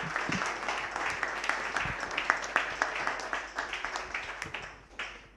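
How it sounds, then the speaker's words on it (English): Audience applause at a WordPress London meetup, a steady patter of many hands clapping in a room, moderately loud with a few sharper claps, tapering off toward the end. "Big round of applause, please."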